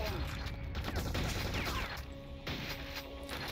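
Enemy machine gun fire in the video game Quake II, played in VR: continuous rapid rattling shots with a steady electronic tone underneath, dense and loud throughout.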